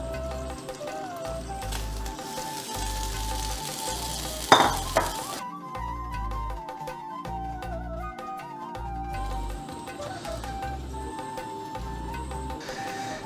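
Bamboo rice payasam bubbles and reduces in a bronze uruli while being stirred, a soft steady simmer with a brief metallic clatter of the ladle against the vessel midway, set under looping background music.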